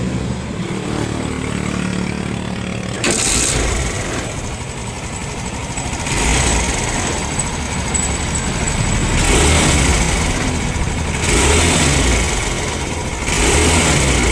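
A motorcycle engine with a newly replaced battery, after dropping to 5.7 volts, cranks into life and settles into a steady, loud, close idle. The idle rises and falls in gentle revving swells, and no one speaks.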